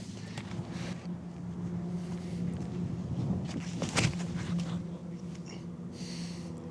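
Steady wind rushes and buffets across an open disc golf course as a headwind, a continuous low roar with microphone gusts and a sharper burst near the middle, and no one talking.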